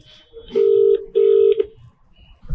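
A telephone rings in two long electronic tones separated by a short gap, loud and close, with faint background murmur.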